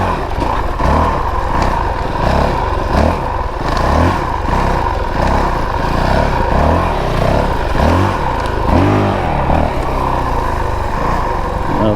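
A 2022 Honda CRF450RL dual-sport motorcycle engine revving hard off-road on a tight technical trail, a loud continuous throttle roar rising and falling in repeated pulses with mechanical clatter, close and dominant throughout.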